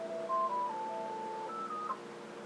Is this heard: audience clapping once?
no